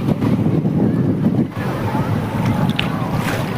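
Sea waves surge and crash close by on a crowded shore, a continuous rough roar mixed with heavy wind buffeting the microphone.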